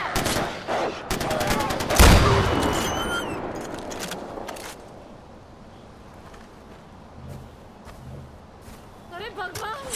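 Gunfire in the video game Far Cry 4: a rapid burst of loud shots and one heavy blast early on, then a fading ringing tail and scattered quieter noises, with occasional game voices in the background.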